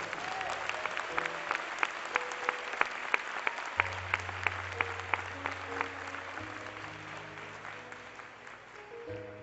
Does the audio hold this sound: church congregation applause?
yes